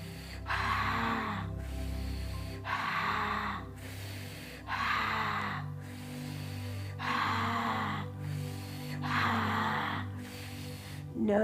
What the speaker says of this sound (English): Keep breathing like this.